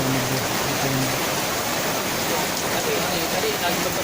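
Heavy downpour roaring steadily and loudly throughout, a dense continuous hiss of rain falling outdoors, with faint brief voices buried beneath it at the start.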